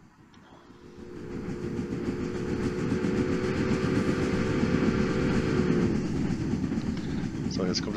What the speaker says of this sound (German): So, jetzt kommt der nächste Zug.